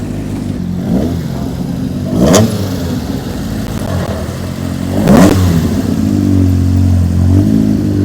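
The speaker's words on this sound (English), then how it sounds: "Cars still coming in." Cars drive into an outdoor car show at Cars in the Park 2025, engines idling and revving nearby in a low rumble, with a couple of louder passing swells.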